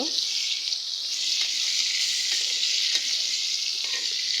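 Pangas fish pieces sizzle steadily in a frying pan, a loud continuous hiss of hot oil with a few soft scraping knocks as the fish is turned over.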